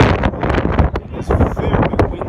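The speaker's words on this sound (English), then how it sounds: "It is a very windy night here at Beach Charlotte Soccer Complex in San Francisco" Strong wind buffets the microphone at an outdoor soccer complex at night in San Francisco, loud rumbling gusts in rapid uneven surges throughout.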